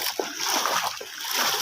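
Short sloshing splashes of floodwater around a village home in Gopalnagar, Comilla, a few uneven bursts over a steady watery hiss, with faint breathing in the background.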